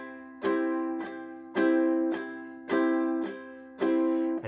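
Ukulele strummed in a reggae bounce, each beat a light down-stroke followed by a heavier down-stroke, four bright ringing chord pairs in even rhythm, played alone up close.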